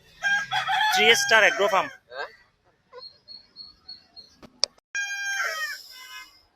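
Roosters and hens at a busy poultry market, with a close rooster crow followed by scattered chirps and clucks, and a voice speaking at the start.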